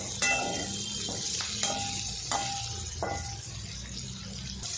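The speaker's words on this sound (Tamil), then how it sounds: "லோ ஃப்ளேம்லேயே வெண்டைக்காயை எண்ணெயில் வதக்கி எடுத்துக்குவோம்" Okra sautéing in oil in a pan over a low flame, a close frying sizzle broken by several sharp scrapes and clinks of a stirring spoon, no talk.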